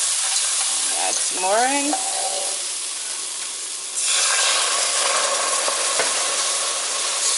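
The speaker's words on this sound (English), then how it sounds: "I'm going to whisk it in together." Milk whisked gradually into a pan for scalloped potatoes, giving a steady sizzling, stirring hiss that swells louder partway through, with a brief spoken remark early on.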